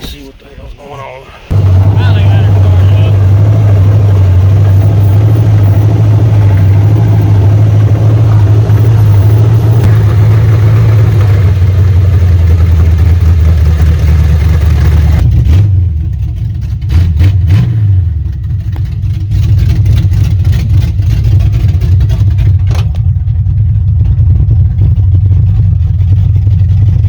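A 1986 Chevrolet Silverado pickup with a swapped-in 350 Vortec V8 and a troublesome carburetor runs loud and close after a brief start-up, holding a steady rumbling idle with a couple of short revs near the end.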